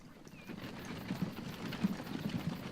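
Hooves of horses pulling a wagon in the Transport Fever video game clop steadily at a moderate distance over a soft rumbling background, with no talk.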